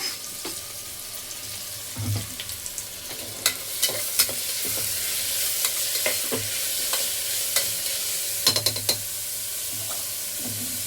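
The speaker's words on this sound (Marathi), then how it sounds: "आता आपल्याला कांदा चांगला लाल करून घ्यायचा आहे" Onion browns with whole spices in a pan under a constant low sizzle, broken by repeated sharp scrapes and taps of a spoon stirring against the metal.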